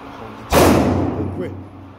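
A single loud, close gunshot at an outdoor shooting range, a sharp blast followed by a rolling, decaying boom that lingers for over a second.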